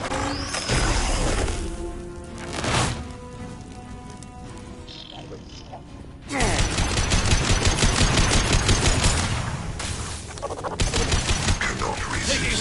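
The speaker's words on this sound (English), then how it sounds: "Taking heavy fire." Heavy sustained automatic gunfire in Mass Effect Legendary Edition on a colony, with rapid rattling bursts that intensify midway and continue loud and dense, alongside brief game voice lines.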